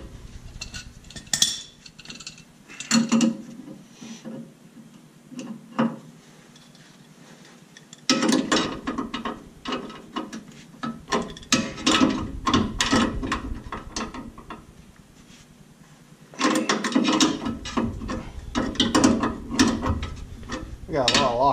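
A wrench runs down suspension link jam nuts heavy with Loctite on a 4-link drag car, giving bursts of fast ratcheting clicks separated by pauses, close and fairly loud.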